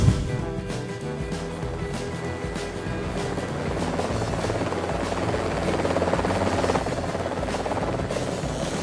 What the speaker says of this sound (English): Human-powered aircraft.